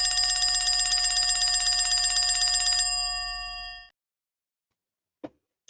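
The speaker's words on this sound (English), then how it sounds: "Ring the bell, baby. Ring the bell." An electronic telephone ring trills rapidly for about three seconds, then stops, followed by a couple of brief knocks.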